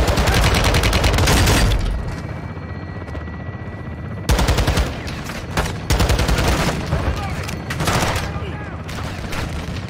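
Belt-fed machine gun fire in Call of Duty: Modern Warfare II comes as loud, rapid sustained bursts, a long stream at first, then a pause with a low engine hum, then further repeated bursts, with game voices talking briefly.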